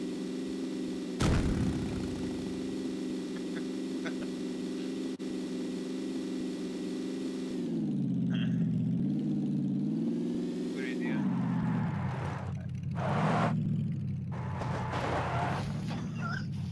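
A car engine in the PUBG battle royale game holds a steady low drone, then surges and revs in waves as nitrous boost kicks in, with a sharp bang early on and talk over the top.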